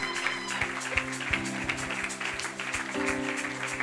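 A church congregation claps and cheers in a rhythmic, steady pattern over sustained music, with sharp regular beats running through and the crowd sound moderately distant.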